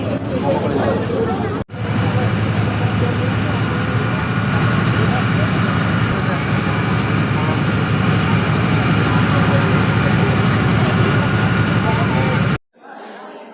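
Steady loud engine drone of a river ferry launch crossing to Nabadwip, a continuous broadband rumble with crowd babble and voices mixed in throughout, cutting off briefly near the start and again at the end.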